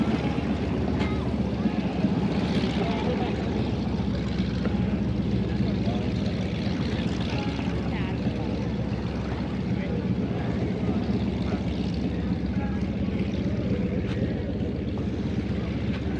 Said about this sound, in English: I'm gonna hold off for 1 minute because this plane's flying away.